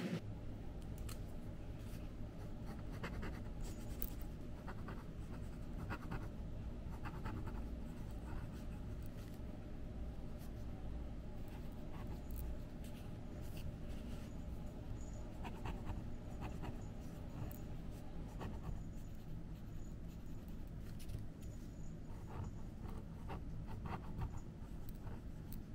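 A marker scratches steadily across a paper 'this side up' label, with tape pulled and pressed onto a case being packed for a flute convention trip. The scratching and rustling are close and continuous over a steady background hum, with no talking.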